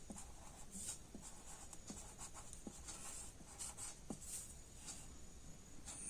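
Pen scratching as a definition is handwritten, a steady run of soft strokes and short taps close by, faint and continuous with no one talking.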